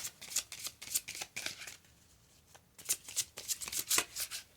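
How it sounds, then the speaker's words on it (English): Oracle cards being shuffled by hand, giving bursts of crisp riffling flutters, a brief pause, then another run of quick papery shuffles, close and fairly quiet. "So let's go ahead and pull the oracle cards for you."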